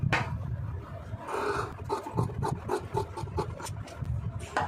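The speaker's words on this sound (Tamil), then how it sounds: "ப்ளவுஸோட அளவு இப்போ அப்படியே கட் பண்ணி எடுத்துடலாம்" Scissors cutting through blouse fabric for sewing, producing a close, steady run of rasping snips and rubbing strokes.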